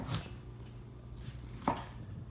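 A knife chops through a cauliflower on a cutting board in a home kitchen, with one soft cut near the start and a sharper, louder chop later, alone and close.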